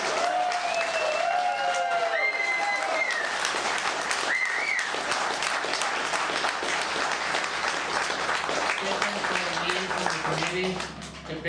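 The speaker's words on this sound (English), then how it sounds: "Give them a big round of applause." Applause from a crowd at GeoWoodstock IX, an outdoor geocaching gathering, a dense sustained clapping that fills the whole stretch, with a voice calling out near the start before the ovation swells and then starts to fade at the end.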